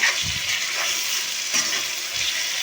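Hot water poured into fried tomato masala with potato, brinjal, cumin and green chilli for a thin pabda fish curry, giving a steady bubbling sizzle with stirring scrapes throughout, close and fairly loud, no voices.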